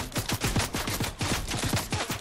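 Rapid bursts of automatic gunfire in Fortnite rattle continuously, dense and steady, with the slightly processed character of game audio.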